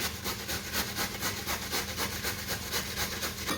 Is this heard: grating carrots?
yes